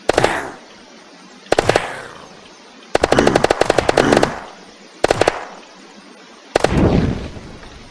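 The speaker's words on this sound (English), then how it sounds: "burns through those magazines because it does have a fast rate of fire" Rapid automatic gunfire from a Western Front weapons mod in the video game Unturned, loud and close in five separate bursts with short pauses between them.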